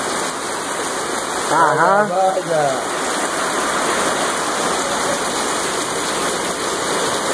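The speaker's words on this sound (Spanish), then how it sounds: "está cayendo un torrencial aguacero" A torrential rain downpour roars as a loud, steady wash of water throughout, with a brief spoken word from a man partway through.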